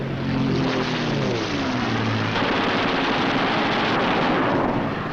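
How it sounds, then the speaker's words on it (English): Eight machine guns of a P-47 Thunderbolt fighter rattle in a dense, continuous burst over the droning propeller engine, loud and sustained, with the engine pitch sliding at the start. "With the touch of the finger on the stick, a camera and 8 machine guns are put into action."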